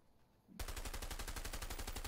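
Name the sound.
shotgun fired in the video game A Way Out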